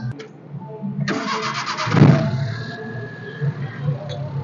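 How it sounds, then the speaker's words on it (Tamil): A Maruti Omni minivan engine cranks briefly, catches with a throaty rise, then settles into a steady low idle, close by and without speech. "வண்டியோட இன்ஜின் சவுண்டை எப்படி காட்டணும் அப்படிங்கிறத பார்ப்போம்"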